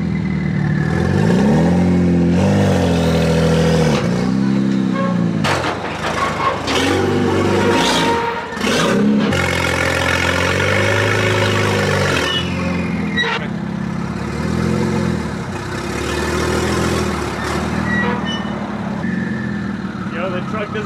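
Pickup truck engine pulling a towed car, revving and rising and falling in pitch as it accelerates, loud and close, with people talking over it.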